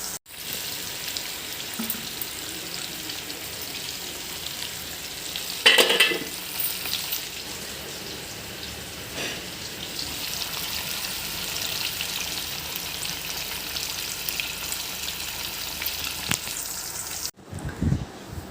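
Pieces of fish, four or five at a time, shallow frying in a home kitchen pan give off a steady, moderately close sizzle that runs throughout, with a brief louder crackle around the middle and a sudden cutoff near the end.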